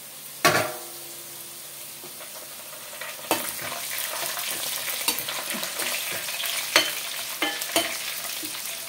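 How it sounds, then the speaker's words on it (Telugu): Small onions and dried red chillies sizzle in hot oil, a close steady crackle punctuated by several sharp pops and spits as the onions burst. "చూసారా అట్లా పగులుతున్నాయి చిన్నులపాయలు"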